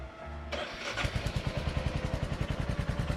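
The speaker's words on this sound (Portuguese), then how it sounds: "primeiramente, vou ligar a moto aqui, que ela está parada desde ontem" A Royal Enfield Classic 350 motorcycle, parked since the day before, cranks briefly and fires, then settles into a steady, loud thumping single-cylinder idle.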